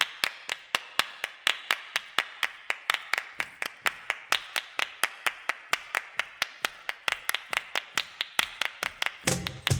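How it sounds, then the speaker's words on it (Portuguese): Márcio clapping his hands in a fast, steady rhythm, dozens of crisp close claps at an even pace running continuously for about ten seconds, ending with a brief low rumble. "Márcio batendo palmas."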